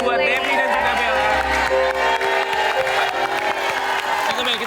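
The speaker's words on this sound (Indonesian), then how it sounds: "Boleh kita berikan tepuk tangan buat Devi dan juga Bella." A studio audience at a televised dating show claps and cheers loudly and steadily, with the applause filling the whole stretch.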